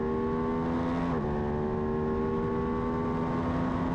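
Lightweight supersport racing motorcycles at Blackhawk Farms Raceway scream down the front straight side by side, a steady, loud, high engine drone with a slight pitch shift partway through.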